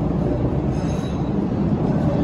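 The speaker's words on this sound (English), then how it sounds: "There's the tracks and there's the train coming in." Continuous heavy rumble and rushing noise of a subway train arriving along the tracks at Alewife T station, Cambridge, Massachusetts, with a faint high squeal briefly rising above it.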